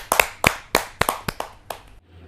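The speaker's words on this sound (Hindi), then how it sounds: "जरा जोरदार तालियों के साथ हम स्वागत करें" A short burst of audience applause at a Hindi poetry gathering, about eight loud, sharp claps in an uneven rhythm, fading out at the end.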